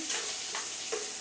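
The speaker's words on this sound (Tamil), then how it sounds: "எண்ணெயில போட்டு வதக்கிக்கலாம்." Eggplant sautéing in hot oil, a steady close sizzle with soft stirring scrapes at a few points.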